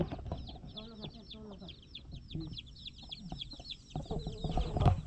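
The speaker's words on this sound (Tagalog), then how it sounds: "Dalawa na sila dyan, isang inahin, isang lalaki, tsaka yung mga sisiw." A flock of chickens, a hen, a rooster and chicks, clucks and chirps continuously, with a voice murmuring faintly underneath.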